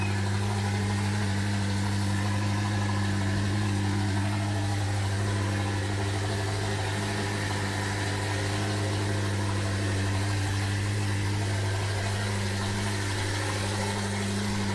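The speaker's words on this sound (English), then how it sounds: "I'm here for the car noises." Car engine idling steadily for the full stretch, a continuous low rumble with a strong, even hum and no other sounds over it.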